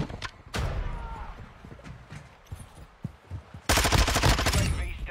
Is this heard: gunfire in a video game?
yes